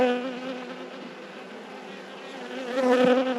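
Honeybees hum steadily and loudly from an opened beehive during an inspection, the dense buzzing swelling near the end as the frames are worked.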